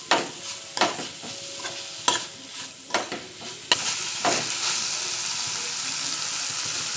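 Kad chutney with green masala, turmeric and salt being stirred in a pan: several loud, sharp scraping strokes, then a continuous close sizzle with no voices.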